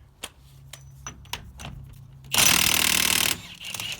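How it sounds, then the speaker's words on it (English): Impact gun fitted with a 36mm socket rattles hard against a tight wheel hub nut on a Peugeot Partner, one loud sustained burst of about a second following a few sharp metallic clicks and knocks nearby. "Let's get this in the gunner, see if it will shift this big ass nut off of here."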